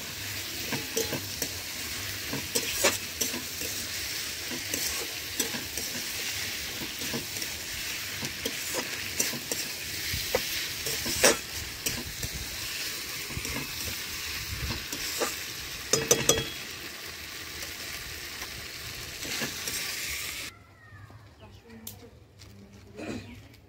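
Cumin, chilli and ginger-garlic paste frying with onions in a home kitchen pan, a continuous sizzle broken by repeated scraping stirs and clinks, with talk in the background; the frying drops away near the end.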